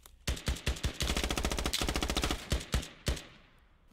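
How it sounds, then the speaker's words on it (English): Bursts of assault rifle fire in the tactical shooter Squad: a rapid sustained automatic volley followed by a few spaced single shots, loud and close, with no talk. "Fulcrum's resuming his AR fire."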